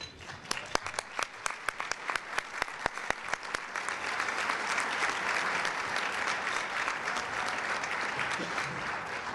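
Applause at a community luncheon in Tampa begins with a few distinct, separate claps that quickly swell into a full, steady round of clapping from the seated crowd, fairly soft and continuing to the end.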